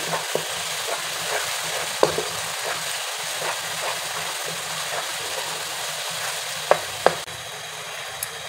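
Cumin seeds fry in hot oil for a chana daal dish with a constant dense sizzle, while a utensil stirs and taps the pan in scattered light clicks, a couple of them louder near the end.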